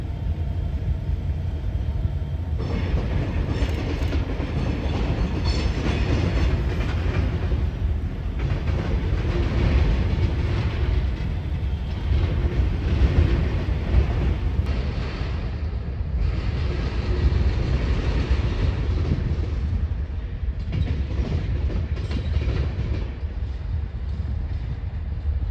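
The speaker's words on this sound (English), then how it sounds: "Our next train would be another CPKC train, this one being CPKC J20" CPKC J20, a freight train running from Pig's Eye Yard in St. Paul to La Crosse, Wisconsin, rolls past at close range with a loud, continuous low rumble and clattering wheels over rail joints.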